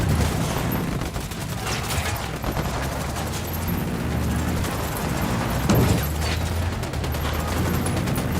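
Sustained gunfire in the tactical shooter Ghost Recon Wildlands: a dense, continuous fusillade of overlapping shots and booms with a loud rumbling background and no clear breaks.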